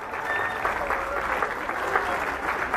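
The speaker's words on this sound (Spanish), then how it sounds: "Un fuerte aplauso para ellos," A crowd claps steadily for the Coro de Moscas de Tultitlán choir performing with Orquesta Basura, a moderate, even wash of applause heard from within the audience with no talking.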